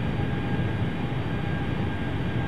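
Steady, loud roar of a QualityWings 757-200 airliner on final approach and landing in a flight simulator, a continuous broadband engine and airflow rumble with a faint whine, unbroken throughout with no talk.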